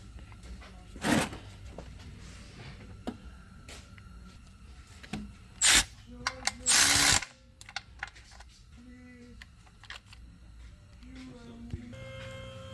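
A 17mm wrench tightens the oil drain bolt back in place under a 2012 Volvo XC60 during an oil change, with a few sharp scraping, ratcheting bursts among quieter metallic fiddling and rubbing.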